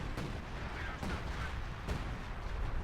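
Artillery fire in the Company of Heroes 2 video game: three distant, muffled booms, evenly spaced, over a steady low rumble of battle, faint overall.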